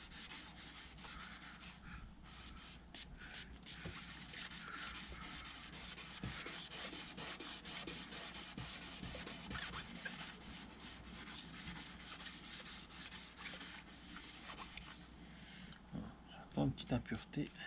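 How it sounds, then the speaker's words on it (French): Hand sanding of a Mercedes C 220 headlight during a headlight restoration, a steady rhythmic scraping rub of abrasive on plastic repeating in quick strokes, close and continuous, with someone talking over it. "plus on va affiner le ponçage, et plus la finition sera parfaite"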